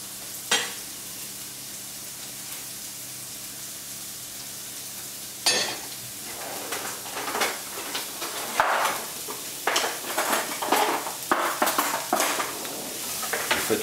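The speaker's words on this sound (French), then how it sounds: "Faites revenir l'échalote gentiment, donc sans trop de coloration" Shallots sauté gently in a pan: a quiet sizzle runs underneath while a utensil scrapes and taps against the pan in bursts, growing busier toward the end, with no voices.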